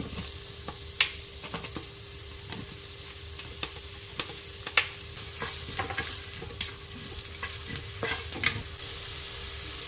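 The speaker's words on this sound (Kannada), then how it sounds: "ನಾನಿದಕ್ಕೆ ಮೊದಲಿಗೆ ಈರುಳ್ಳಿಯನ್ನು ಹಾಕ್ಕೊಳ್ತೀನಿ." Onions and whole spices such as cinnamon and cloves sizzle in oil inside a robo-cooker, a soft steady frying hiss broken by occasional light stirring clicks and pops.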